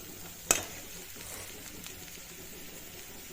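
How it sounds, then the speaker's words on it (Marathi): A spoon scrapes sharply once through a pan of hot oil with clove, cinnamon and turmeric for stuffed eggplant masala, followed by a soft, steady sizzle. "हलवून घ्यायचं व्यवस्थित आता हळद टाकली"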